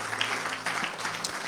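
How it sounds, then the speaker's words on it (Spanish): Brief burst of applause from a church congregation during a worship service, many hands clapping in a dense, even wash at moderate volume. "Denle un aplauso al Señor Jesucristo."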